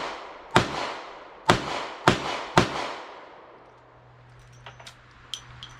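Four loud, sharp gunshots from a Charter Arms Undercover revolver firing old reloaded nickel cases ring out outdoors at uneven intervals, each with a decaying echo, followed by fainter distant pops.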